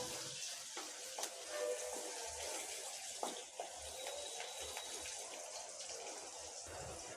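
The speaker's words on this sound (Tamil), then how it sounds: "இது நல்லா வதங்கட்டும்." Chopped vegetables sauté in a pan for a mixed-vegetable chutney, giving a steady, soft sizzle with occasional stirring clinks and scrapes, close but gentle, with no talking.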